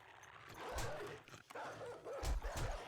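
Dog barking in the video game 7 Days to Die, a few quiet, muffled barks and yips spread over a couple of seconds, faint and somewhat distant.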